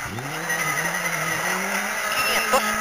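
A rally car on a gravel special stage slides through a turn on the handbrake, its engine whining at high revs while tires scrub and skid, loud and close for a few seconds.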